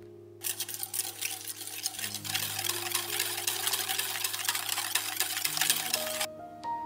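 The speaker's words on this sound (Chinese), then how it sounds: "加入糖搅拌" Whisk or spoon stirring egg yolk with sugar in a bowl for custard, a busy close scraping and clinking rhythm running steadily for several seconds after a quiet start.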